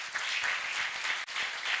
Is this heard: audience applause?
yes